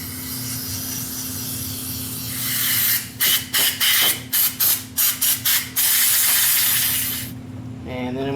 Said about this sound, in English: Take some brake cleaner, and I'm just going to spray the inside of this and clean it all up.